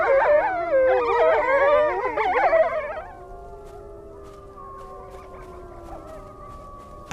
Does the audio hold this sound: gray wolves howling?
yes